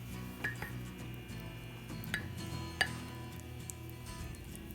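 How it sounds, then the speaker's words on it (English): Soft, irregular ticks and light clinks of a rubber-tipped spoon stirring cake batter in a mug, over a low background hum, quiet and close with no talking. "Get our spoon this time, this won't make as much noise, it's got the rubber tip."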